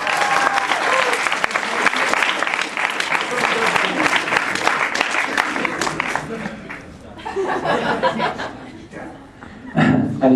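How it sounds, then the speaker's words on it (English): A crowd at a 2012 grad-night hypnosis show breaks into loud, close applause mixed with chuckles and chatter, easing after about six seconds into scattered claps, murmuring and laughter, then swelling briefly again at the end. "Give these guys another round of applause"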